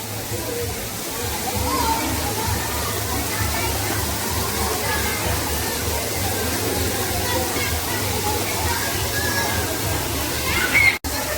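Loud, steady rush of water roaring close by, continuous throughout with a brief bump near the end.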